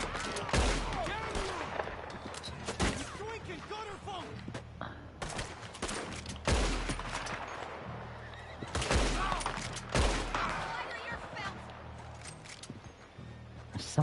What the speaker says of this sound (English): Somebody in the house shooting at me.